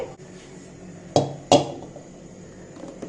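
Two sharp metallic clanks ring out close by, a heavy cast-iron wok, about 60 to 70 years old, set down or knocked, in a quiet room with faint handling noise.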